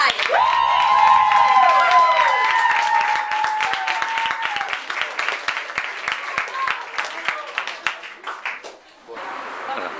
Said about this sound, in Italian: Un applauso per Fargai.